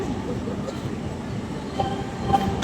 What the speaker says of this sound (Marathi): इथून आपली नाशिक आपली ट्रेन डिपार्चर करत आहोत